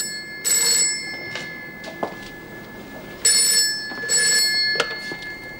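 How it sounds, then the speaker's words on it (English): A traditional telephone bell rings in two long bursts separated by a pause, loud and close, with a few faint knocks in between and no talking. "Susie, thank heavens you rang"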